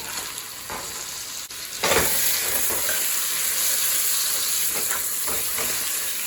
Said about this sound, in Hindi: और इसका कलर चेंज होने तक हम इसे भूनेंगे।